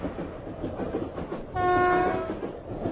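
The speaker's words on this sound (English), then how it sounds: "Alright, the train's going down." A train rolls down a railway grade with a low rumbling and clatter, and a loud sustained horn blast sounds partway through before the rolling noise carries on.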